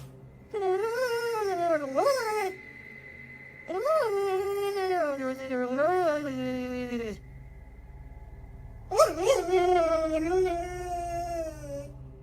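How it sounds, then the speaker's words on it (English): A dog whines and wails in long, pitched, wavering cries, three drawn-out bouts with short pauses between them, close and fairly loud, with no talking. "He's seen in the video staring at something and whining for several minutes."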